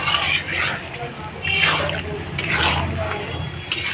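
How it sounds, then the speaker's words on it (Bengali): A mugful of water poured out from a mug, a steady splashing, trickling pour heard up close with a few surging pulses over a few seconds, while a person talks over it. "এই মগটা দিয়ে 1 মগ জল ঢেলে দিলাম।"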